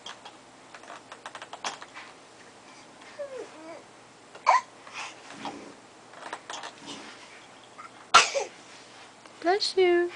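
An infant in an exersaucer gives a small sneeze among soft babbling and scattered toy clicks, the sounds brief, close and fairly quiet against a hushed room.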